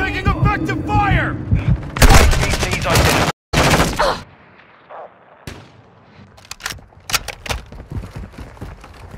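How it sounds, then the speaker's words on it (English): Gunfire in the video game Warzone, with dense bursts of loud, sharp shots early on, then scattered cracks at varying distances. Voices shout over the shooting. "Taking effective fire!"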